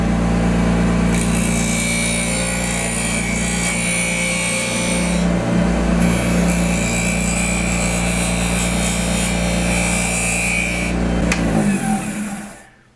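A skew chisel finishes the middle of a wooden barrel on a lathe, giving a loud, continuous shaving hiss over the steady hum of the spinning machine, holding for several seconds before tapering off abruptly at the end.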